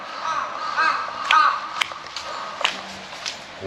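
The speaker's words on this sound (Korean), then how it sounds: "저 까마귀들은 저 진짜 무서워" Several crows cawing in a street in Otaru, Hokkaido, with repeated harsh calls at moderate distance over steady city background noise.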